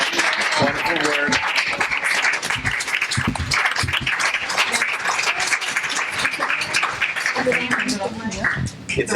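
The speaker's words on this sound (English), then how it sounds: "let's applaud our actors as they're leading us once again" An audience at a post-reading discussion of a play gives the actors sustained, dense applause, loud and close, filling the whole stretch with clapping and a little crowd noise.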